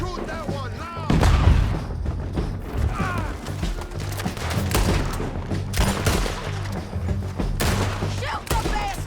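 Gunfire in Red Dead Redemption 2, a dense fusillade of loud close shots and booms crackling almost continuously over the whole stretch, with faint voices mixed in.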